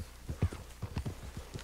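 A large horse walks along in the Red Dead Redemption 2 video game, its hooves clip-clopping in an uneven rhythm of soft thuds with a voice talking over them.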